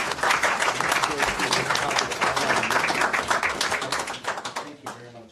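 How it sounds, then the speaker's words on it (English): An audience at a town council meeting gives a round of applause, dense close clapping that holds steady, then thins into scattered claps and fades out near the end. "Let's give a round of applause."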